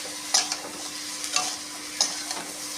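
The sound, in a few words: pumpkin greens stalks stir-frying with potatoes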